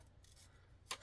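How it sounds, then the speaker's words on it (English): Scissors fussy-cut paper for a planner, a faint quiet background broken by one crisp snip close by near the end. "I'm going to quickly cut."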